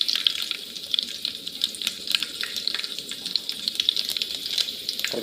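Curry leaves sizzle and spatter in hot oil in a home kitchen pan, a steady bright crackling hiss with frequent sharp pops across the whole stretch, close and fairly loud, with no voices over it.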